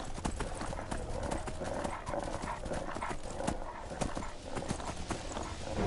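Rapid hoofbeats of a galloping horse in the video game Skyrim pound steadily and loudly, with occasional animal cries mixed into the busy, continuous clatter.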